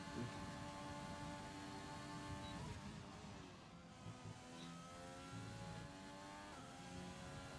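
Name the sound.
Renault race car engine in a sim racing game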